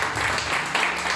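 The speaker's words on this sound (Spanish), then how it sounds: "Dale un fuerte aplauso al Señor" A church congregation claps loudly in praise during a worship service, steady dense clapping that fills the room.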